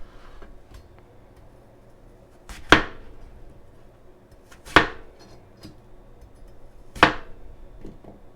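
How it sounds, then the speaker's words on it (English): A knife cuts an apple into quadrants around the core on a cutting board, three sharp, distinct chops about two seconds apart, close and crisp against quiet background, with no talking. "Next up, you're cutting the apple into quadrants around the core."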